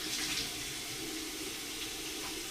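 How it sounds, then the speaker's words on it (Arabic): Tap water runs steadily into a sink at home during face washing, a continuous close splashing hiss with no talk. "هسه خل اغسل وجهي"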